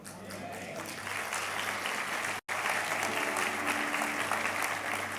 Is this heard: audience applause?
yes